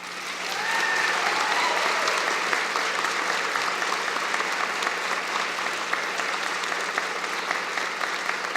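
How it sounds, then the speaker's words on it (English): Steady applause from a convocation audience for graduates' family and friends, a dense wash of clapping that swells in and holds for several seconds, with faint crowd murmur underneath. "a round of applause for them."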